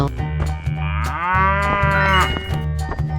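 A cow in a 3D animal slide game gives one long, loud moo that rises and falls, set against a repeating upbeat game music loop.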